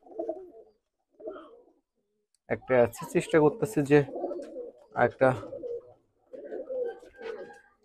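Nildumma pigeons coo in low, throaty phrases near the start and again at the end, with someone talking over a stretch in the middle.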